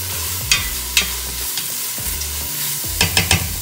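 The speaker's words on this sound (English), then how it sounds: "At this point, we're gonna give it a mix. And go ahead and let that cook." Curry chicken with fresh thyme sizzling in a pan while a utensil stirs it, a loud steady close fry with sharp scraping knocks against the pan at irregular intervals.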